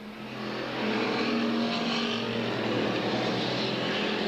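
Street stock cars racing around an oval track, a loud continuous engine roar that swells after the first second and holds steady as the field runs out of the final turn onto the main straightaway.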